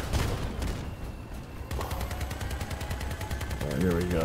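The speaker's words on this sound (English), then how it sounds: "Oh, I'm getting shot." Rapid gunfire crackles in the vehicle combat game Crossout, dense automatic bursts that run continuously and grow louder toward the end.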